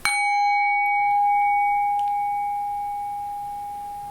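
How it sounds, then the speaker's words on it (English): A singing bowl struck once, ringing out with a long, steady metallic tone that lingers and fades slowly, clear and alone. "that is the sound of a singing bowl being hit"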